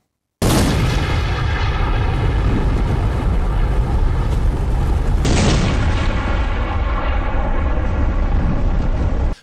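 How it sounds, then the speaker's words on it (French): A grenade explosion in a laboratory, shown in slow motion in a zombie film: a loud, sustained booming roar with continuous low rumble and crackle that holds for about nine seconds, shifting partway through. "grâce à cette explosion au ralenti, vous allez voir tout le génie de Uwe Boll"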